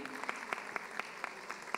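A conference audience applauds a panelist being introduced, a short burst of soft, fairly distant clapping in an indoor hall.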